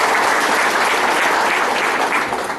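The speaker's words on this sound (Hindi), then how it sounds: "उनके लिए चाहूंगा एक जबरदस्त ताली" A crowd at a BNI business seminar in Kondagaon, Chhattisgarh claps loudly and continuously, dense applause filling the whole moment before tapering slightly at the end.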